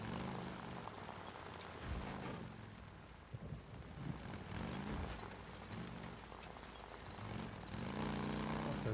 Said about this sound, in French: Ça fait un drôle de bruit cette moto.